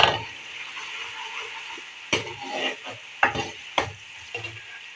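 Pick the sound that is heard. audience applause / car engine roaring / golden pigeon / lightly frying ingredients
lightly frying ingredients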